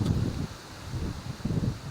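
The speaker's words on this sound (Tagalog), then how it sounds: "Tsaka medyo malakas yung hangin." Gusty wind buffets the microphone in low rumbling bursts, with a faint rustle of leaves behind it and no voices.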